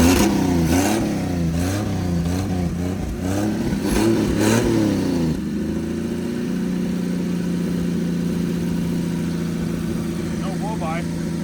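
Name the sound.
forgotten 1954 Chevrolet diesel engine starting and revving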